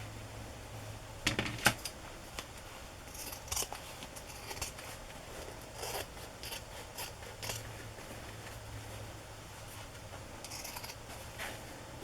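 Scissors trim layers of fabric for an embroidered cover, giving a few soft, close snips and rubbing noises, brief and sparse against a quiet room background.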